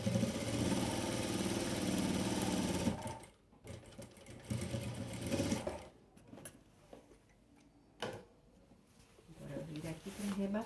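A sewing machine stitching a patchwork table runner and matching cushion runs steadily for about three seconds, then stops, with brief bursts of handling noise and someone talking in the pauses.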